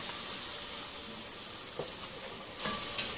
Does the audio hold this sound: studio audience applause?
no